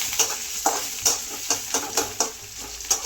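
Onion stir-fried in a few spoons of oil, a steady sizzle broken by regular stirring scrapes about every half second, close and fairly loud with no talking.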